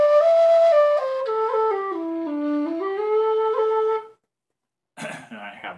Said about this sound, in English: And I have a low D.